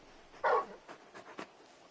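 A big dog in the video game Final Fantasy XVI gives a brief whimpering yelp, then a few softer snuffling whines trailing off, faint and close in a quiet scene.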